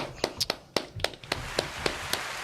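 A few pairs of hands clap close by in a loose, uneven rhythm of about ten sharp claps that gradually grow softer, with no talking.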